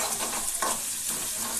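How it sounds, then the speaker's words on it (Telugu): Ginger garlic paste hitting browned onions in hot oil for a liver fry, a close, busy sizzle and crackle with a sudden louder hiss as the paste lands, under brief stirring. "ఇప్పుడు అల్లం వెల్లుల్లి పేస్ట్ వేసుకుందాం."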